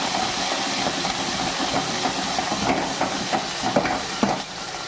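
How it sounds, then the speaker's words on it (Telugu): Cumin, curry leaves and coriander fry in a pan, giving a continuous sizzling hiss with a few small pops and clinks of stirring scattered throughout. "కొంచెం కరివేపాకు, కొంచెం కొత్తిమీర మంచిగా ఫ్రై చేసుకోవాలి."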